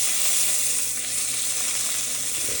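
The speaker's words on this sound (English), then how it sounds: "Just gonna give it another minute or two to get a nice sear on this outside." Pork tenderloin searing in a hot pan, a dense, loud, continuous sizzle held close and steady throughout without pauses or voices.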